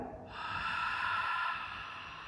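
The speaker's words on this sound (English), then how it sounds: "open your mouth and breathe out" A child breathes in through the nose and out through the mouth during a kids' yoga exercise, a single short nasal inhale followed by a soft, airy exhale, close and alone.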